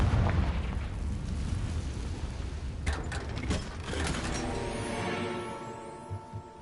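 A Confringo fire spell detonates in Hogwarts Legacy on PS5, a loud booming blast with crackling bursts that settles into a fading rumble and rattle, no voices.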